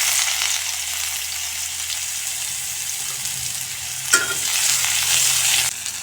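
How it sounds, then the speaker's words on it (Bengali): Onions sizzle and crackle in hot oil in a wok, a steady, close frying hiss with a brief sharper burst partway through, then the sizzle swells louder. "তেল গরম হয়ে গেছে, এখন পেঁয়াজ দিয়ে দেব"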